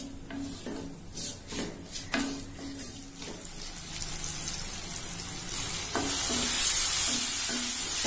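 Tomatoes sautéing in a pan for Nagercoil-style prawn thokku, with steady frying sizzle and repeated scraping stirs of a spoon against the pan, the sizzle swelling louder toward the end.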